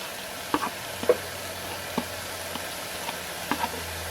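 Onions, sweet pepper, garlic and chive go into a pan for a bitter melon and pink salmon stew, giving a low steady sizzle with several soft scattered clinks and taps of utensils against the pan.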